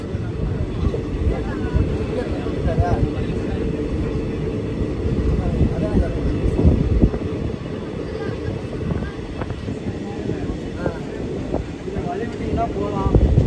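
The Kanniyakumari SF Express runs at 110 km/h, a continuous low rumble and rattle of wheels and carriage heard from inside, loud and steady, with wind buffeting and a voice occasionally audible beneath.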